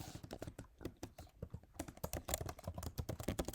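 Fingers type Python code on a computer keyboard in quick, uneven bursts of close, crisp key clicks, with a brief pause before the typing picks up again.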